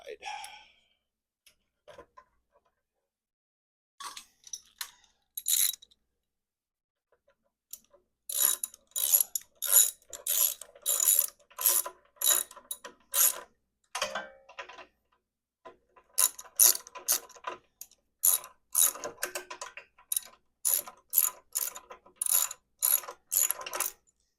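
A ratchet wrench clicks as a bolt is tightened on a Troy-Bilt rototiller during a carburetor replacement, with sparse metallic taps early, then bursts of rapid, close, rhythmic clicking separated by short pauses.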